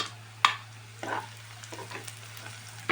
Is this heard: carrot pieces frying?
yes